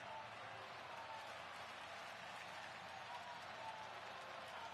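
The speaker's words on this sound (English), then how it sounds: "Sellout crowd here in Milwaukee on their feet." Sellout baseball crowd in the Milwaukee stadium during a playoff game, a steady distant roar of cheering and applause filling the whole stretch without a break.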